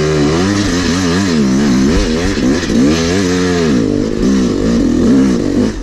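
A dirt bike engine revs hard and close on a private track, its pitch swooping up and down through repeated throttle blips for the whole stretch with no talk.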